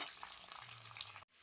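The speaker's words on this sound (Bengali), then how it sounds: "তার সঙ্গে দুটো সিম ভেজে নিচ্ছি" Potatoes and flat beans fry in a pan, a steady close sizzle that runs unbroken for just over a second and then cuts off abruptly.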